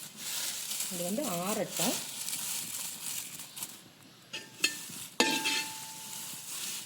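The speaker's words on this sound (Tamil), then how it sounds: "கருவேப்பிலையும் நல்லாவே ரோஸ்ட் ஆகிடுச்சு. நல்லா சலசலன்னு சத்தம் வருது." Curry leaves dry roasting in a pan with no water give a steady crackling sizzle with some scraping, while a voice speaks briefly over it early on, followed by a few sharper clinks.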